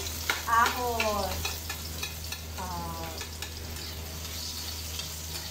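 Garlic sizzles steadily in a hot pan, a close continuous frying crackle with occasional stirring scrapes, while a voice talks briefly over it.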